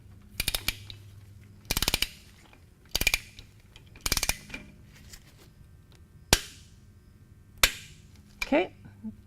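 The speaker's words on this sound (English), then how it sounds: "You'll want your torque wrench set at 14 to 21 foot-pounds of torque." A torque wrench tightening the transmission plug on a Harley-Davidson motorcycle, several short bursts of sharp ratcheting clicks followed by single loud snaps as it breaks at the set torque, close and crisp against quiet pauses.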